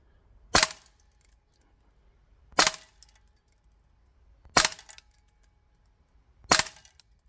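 A VFC AV74M gas blowback airsoft rifle fires green gas with 0.25 gram BBs, four sharp single cracks about two seconds apart, close and loud against near silence.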